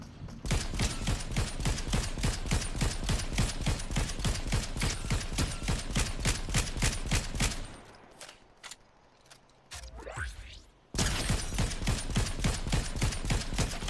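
Rapid automatic gunfire from a video game hammers out as a dense, loud, continuous burst, cuts off for a few seconds of quieter sound with a rising whine, then resumes just as loud and relentless.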